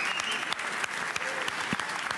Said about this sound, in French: Un tonnerre d'applaudissements pour lui.